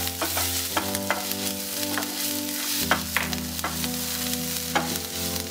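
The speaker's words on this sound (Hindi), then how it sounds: "जीरा भूनने के बाद हम उसमें चॉप किया हुआ लहसुन," Chopped garlic, ginger and green chilies sizzling in hot oil after toasting cumin, for a masala pao: a steady close frying hiss with spoon scrapes and stirring clatter, no voices.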